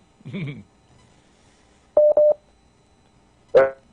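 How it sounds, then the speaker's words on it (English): Telephone tones on a caller's line during a radio broadcast, with a short two-part electronic tone burst between brief voice fragments, clear and fairly loud over a quiet background. "I think he getting a call coming through by him there."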